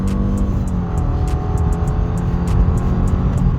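A 2016 Subaru Legacy 2.5 with automatic transmission accelerates uphill from a standstill, a steady loud engine drone with rising tone and continuous road and cabin noise, heard from inside.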